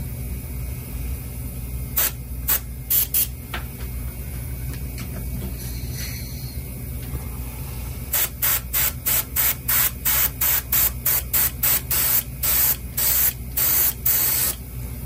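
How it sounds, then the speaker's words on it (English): A paint spray gun respraying a section of a custom trout net at lower pressure, giving short hissing bursts, a few scattered early on, then a rapid run of evenly spaced sprays near the mic. "you can come back and respray that section at a lower PSI,"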